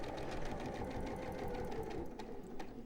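Steady, continuous whirring rattle of a sewing machine stitching fabric pieces, close up and running without pause.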